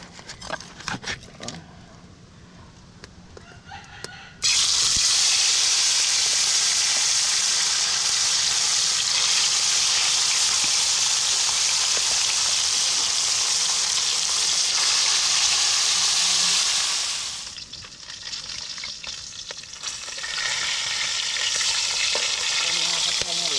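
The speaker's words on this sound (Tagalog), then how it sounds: "Piprituhin na natin itong isda na iskabitsihin natin ngayon." Lapu-lapu fish frying in a hot pan gives a loud, steady broadband sizzle that surges in abruptly, holds strong for a long stretch, then dips and rises again, with lighter clatter before the fish goes in.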